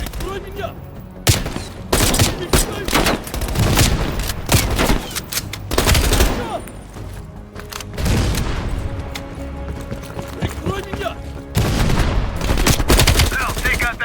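Machine gun fire and other gunfire in the Call of Duty Black Ops Cold War campaign, with repeated loud bursts and rattling volleys, mixed with shouted voices and battlefield noise.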